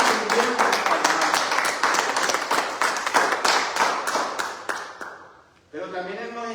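A church congregation claps in a steady, loud rhythm, about two claps per second, for roughly five seconds. It fades out and a voice then starts speaking.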